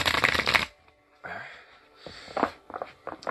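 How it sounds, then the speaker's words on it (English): Tarot cards riffle in a quick burst, then a few softer shuffles and taps follow in short, uneven spurts up close. "Shuffling these cards."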